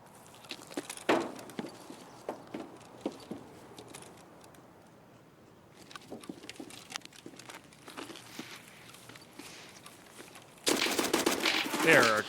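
Gunfire in the video game Escape From Tarkov comes as scattered sharp shots, some spaced and some in quick bursts, mostly moderate in level. A louder, denser burst of firing and noise arrives near the end, with a voice briefly heard.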